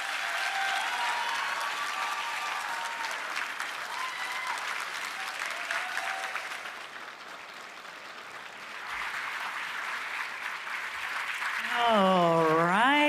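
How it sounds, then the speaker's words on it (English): An audience at a 2024 governor candidate forum applauds, steady sustained clapping that dips briefly and then swells again before a voice speaks over the end. "Let's give a round of applause for Lisa Matthews."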